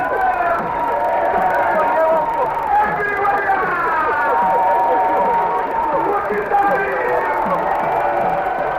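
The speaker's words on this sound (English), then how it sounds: "happily acknowledging the cheers of the crowd" A large outdoor crowd cheers and shouts steadily for the President of Zambia's ceremonial arrival in 1973, with traditional drummers nearby, forming a dense, continuous roar of voices and whoops throughout.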